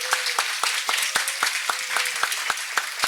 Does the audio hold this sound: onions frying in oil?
no